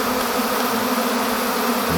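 An agitated swarm of hybrid honeybees at a château in Bouzot fills the air with a loud, dense, unbroken buzzing hum that stays close and constant.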